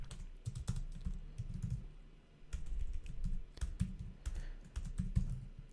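Close-up typing on a computer keyboard while writing Android Studio code, bursts of soft clattering keystrokes with short pauses between them.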